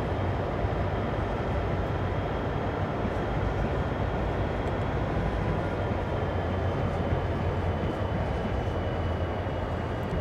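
A CSX heavy haul coal train in Train Sim World gives a loud, steady, close rumble of engine and rolling wagons, unbroken and uniform throughout with no voices.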